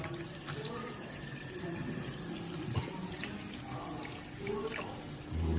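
Steady gentle stream of tap water running into a sink while freshly caught fish are washed under a low flow, a continuous close hiss with faint splashes and occasional soft knocks, no clear speech.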